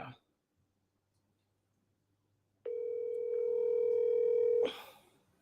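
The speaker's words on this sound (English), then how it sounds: "Phone's ringing." A steady electronic phone ringing tone sounds for about two seconds after a quiet stretch, cut off by a brief noisy burst.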